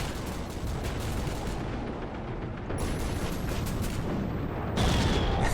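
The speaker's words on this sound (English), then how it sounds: "Okay, I think it's an oxygen cannon." Oxygen cannon fire in the 2006 video game Rogue Trooper: a dense run of booming blasts and explosions with rapid repeated shots, loud and continuous with a few brief gaps.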